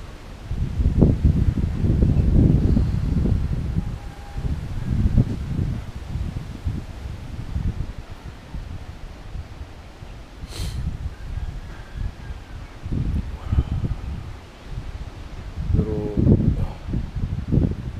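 Cold morning wind gusts outdoors in strong waves, rustling leaves with a steady roar that swells and eases, and a faint bird call briefly cuts through.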